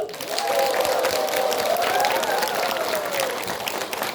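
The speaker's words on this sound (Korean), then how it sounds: "우리 학생분들 선생님들을 위하여 큰 박수!" A large audience claps for students and teachers at a Korean literacy celebration, a sustained burst of applause with some cheering and faint voices, loud and continuous throughout.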